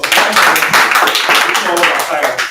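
Clapping rises for a speaker at a press conference for an empowerment programme, brisk and dense, with a voice talking over the applause.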